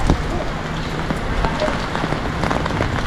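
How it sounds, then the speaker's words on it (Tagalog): Heavy rain pours steadily, a dense close hiss with scattered louder drops and no talking. "Oh, lakas ng ulan na yan, oh."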